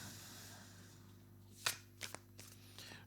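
Oracle cards of a Sufi tarot deck are shuffled for a five-card draw: a few quiet, close riffling bursts and soft flicks over a faint steady hum, with no talk.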